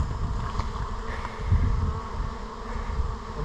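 A honey bee swarm hums at a hive entrance, a steady low buzzing drone from many insects heard close by with some wind noise over the microphone and no talking.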